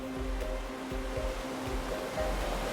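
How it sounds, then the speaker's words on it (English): Heavy ocean waves churned up by a Category 3–4 hurricane, Lee, roll in a steady, loud rumble with low surging swells and a few faint tonal hums, no voices present. "Waves rising from this storm can easily engulf the biggest of cargo ships into them."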